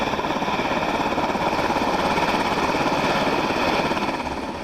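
A U.S. Coast Guard helicopter in steady flight, its rotor and engine roar loud and continuous throughout with a dense chopping texture and no voices.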